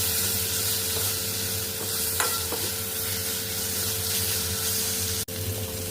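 Potatoes and spices fry in a pan with a little water for a chickpea curry, giving a loud, continuous hiss of sizzling with faint stirring knocks and one sharp clack near the end.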